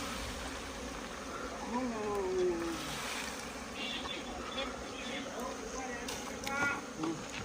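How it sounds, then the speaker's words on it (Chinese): A large swarm of honeybees streams away from a hive box outdoors, giving a dense, continuous buzzing drone throughout, with faint voices and rustle mixed underneath. "这个数不清有多少只蜜蜂啊！"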